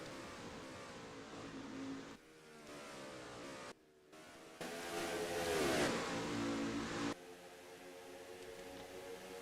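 Stock car engines race at Darlington in a racing video game, a continuous buzzing engine drone that rises and falls in pitch as cars pass, with a brief dropout partway through.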